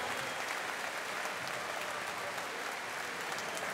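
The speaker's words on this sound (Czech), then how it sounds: "Naopak potlesk pro Bamu, že za skvělý zápas až do konce toho třetího kola" Steady applause from a large crowd at an MMA fight event, dense and continuous clapping that fills the space without pause.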